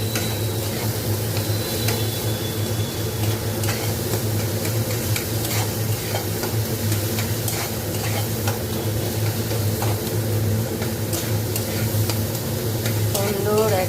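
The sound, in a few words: stirring melted chopped tomatoes in a pan for pav bhaji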